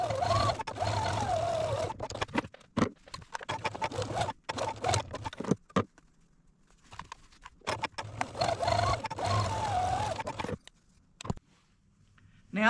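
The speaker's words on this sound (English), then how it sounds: "I'm going to take this over to the sewing machine and stitch our 2" A sewing machine stitches the shoulder seams of a boy's shirt in several bursts of steady whirring, with short pauses and handling noises between runs, close and fairly quiet.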